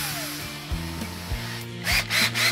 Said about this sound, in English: I'm going to drill a small pilot hole first